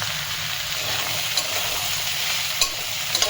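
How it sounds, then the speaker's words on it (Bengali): Spinach stalks and vegetables fry in a pan with salt and turmeric over medium heat, giving a steady close sizzle with occasional light stirring clicks. "ভালো করে সবজিটাকে ভাজতে হবে"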